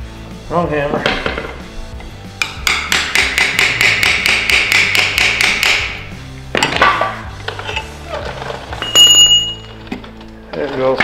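Rapid series of sharp metallic hammer strikes driving out a freeze plug on a Cummins engine block in a workshop, about a dozen ringing blows in quick rhythm, then a few heavier knocks, with people talking around it.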